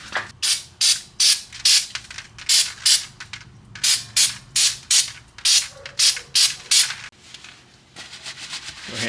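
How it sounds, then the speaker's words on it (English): Brake cleaner sprays onto rusty Nissan Quest brake rotors and parts in rapid, loud, close-up hissing bursts. The bursts come in quick clusters with short pauses between groups. "spray it with the brake cleaner"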